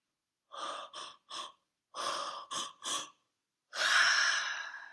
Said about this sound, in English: I'm yawning, and that's me releasing energy